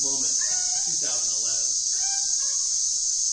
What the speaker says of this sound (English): I've never seen as many cicadas in one place as this one moment, 2011.